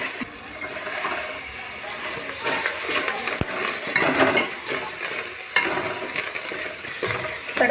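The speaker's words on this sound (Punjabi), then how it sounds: "ਇਹਨੂੰ ਹੁਣ ਮੈਂ ਚੰਗੀ ਤਰੀਕੇ ਨਾਲ ਭੁੰਨਾਂਗੀ" Steady sizzling and scraping as spices roast for a tadka and get stirred in a hot pan, with occasional clinks and a continuous hiss throughout.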